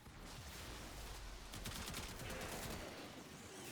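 Sustained gunfire in a PC shooter game, a dense, continuous volley of rapid shots that grows a bit sharper midway and holds steady with no pause.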